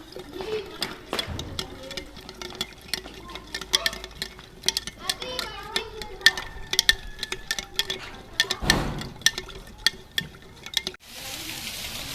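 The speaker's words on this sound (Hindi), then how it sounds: "अब गुड़ को पानी में अच्छी तरह मिक्स कर लेंगे।" Jaggery, about four tablespoons, is stirred into water in a jug, with a spoon clinking and scraping in quick irregular bursts, close by, ending in a short rush of noise.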